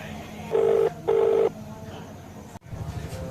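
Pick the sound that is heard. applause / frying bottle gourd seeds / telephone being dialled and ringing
telephone being dialled and ringing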